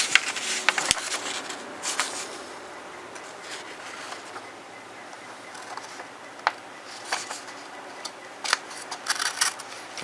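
A sharp Buck 375 Deuce folding knife slices a sheet of copy paper, producing a series of quick, close, crisp cutting strokes in irregular bursts with short pauses between them.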